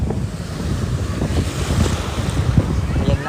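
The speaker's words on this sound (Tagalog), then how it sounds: "Mababaw siya pero maalon, mahangin," Surf rolling onto a shallow, choppy beach at Boracay with gusty wind buffeting the microphone, a steady continuous wash of breaking waves close by, no talking.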